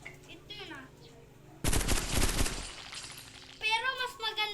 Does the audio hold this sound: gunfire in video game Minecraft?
yes